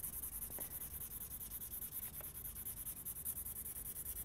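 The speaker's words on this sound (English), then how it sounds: "I'm going to quickly put down our graphite pencil." Graphite pencil writing on paper, a soft continuous scratchy rubbing with a couple of faint taps, close and quiet with no talk.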